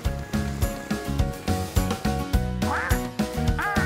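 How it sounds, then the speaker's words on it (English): A cartoon duck quacks twice in quick succession near the end, over busy, bouncy background music in a construction-truck children's cartoon. "That's Dylan the duck."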